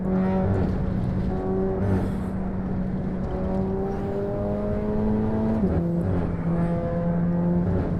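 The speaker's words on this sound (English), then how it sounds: "Also like the way it sounds, this car, when you drive it. The tires, the engine, the wind noises." Car engine in Assetto Corsa driving at low speed, a steady droning tone that climbs and drops with gear changes, layered with tire noise and wind rush, continuous and close with no talk.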